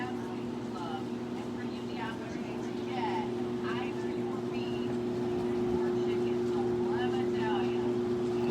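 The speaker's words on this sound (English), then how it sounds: "It's too cold for the compressor to come on. Yeah, it's blowing. That means it's blowing cold air." A Danby 6000 BTU air conditioner runs with only its fan blowing and the compressor off, giving a steady, close motor hum and airy rush throughout, with faint voices in the background.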